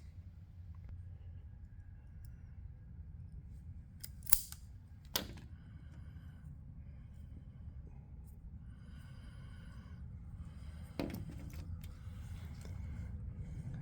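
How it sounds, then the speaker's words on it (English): Wire strippers snip and strip the wire ends on a Maruyama-style trimmer with a Twist-A-Throttle system, giving a few quiet, sharp clicks spaced apart over a low steady hum, with no talking. "take your wire strippers, strip back just a little bit of wire on each one"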